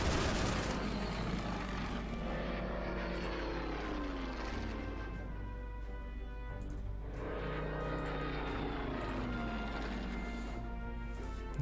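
Droning engine of a World War II bomber in the strategy game Order of Battle: World War II, a loud continuous propeller hum with slowly sweeping pitch and faint distant bursts of gunfire.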